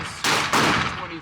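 Two sharp, loud handgun shots from an HK P2000 SK fired outdoors at a range, about a quarter second apart, each with a long ringing echo tail, close by.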